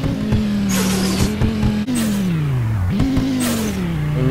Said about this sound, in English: And as you can hear, there is a massive turbocharger in this.